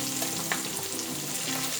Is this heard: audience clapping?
no